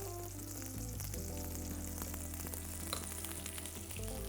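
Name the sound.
mushrooms sautéing in a pan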